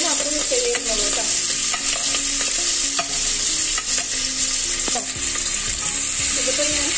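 Chicken pieces fry in sunflower oil in a pan with a steady, close sizzle throughout, broken by scraping stirs and occasional clinks of a utensil against the pan.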